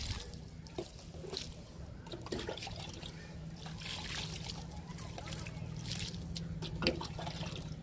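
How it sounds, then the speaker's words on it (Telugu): Water trickles and splashes onto garden waste being turned into compost outdoors, a steady gentle pour with a faint low hum in the background. "ఈలోపు కొంచెం వాటర్ ఇచ్చేద్దాము కంపోస్ట్ అవుతూ ఉంటుంది"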